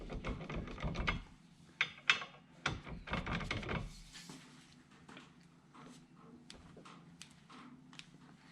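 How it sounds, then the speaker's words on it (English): A breaker bar tightens brake bolts on a C5 Corvette, producing close, uneven bursts of ratcheting and metallic rubbing, louder at first, then lighter clicks and taps tapering off. "Now I'm going to really tighten them up with this breaker bar."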